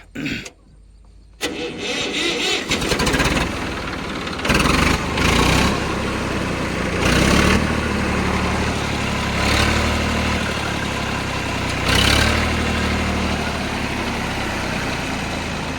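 A tractor with its original company fittings is started with the electric starter: a brief crank, then the engine catches and idles at a steady chug, with several short rises in revs.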